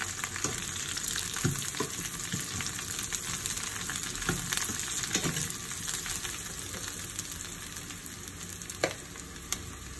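Eggplant pieces fry in a pan with a continuous, dense sizzle, stirred occasionally with soft scraping knocks, the steady hiss staying close and even throughout with no voices.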